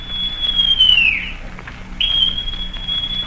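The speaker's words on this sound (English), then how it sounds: "Then Silver brought out a whistle." A shrill whistle blast in a radio drama of Treasure Island, a long steady high tone that dips and breaks off, then sounds again for over a second, loud over a faint background.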